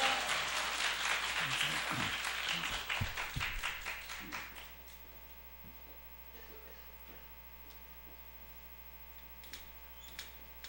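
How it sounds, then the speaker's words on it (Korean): Church congregation at an evening service applauding a preacher's arrival, a thick burst of clapping that fades out after about four seconds into a quiet room with a faint electrical hum. "큰 박수와 할렐루야를 환영합니다."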